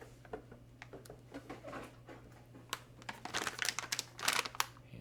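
A Gigabyte GTX 1070 Ti Gaming OC graphics card is pulled from its retail packaging, with close plastic and paper crinkling that grows busier and louder toward the end over a low steady hum.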